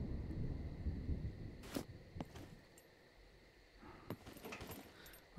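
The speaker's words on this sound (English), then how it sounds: "Oh, it's thundering again." Thunder in the survival game SCUM, a low rumbling roll under sharp crackling cracks and clicks, fading to quiet and then swelling again, with a voice briefly audible.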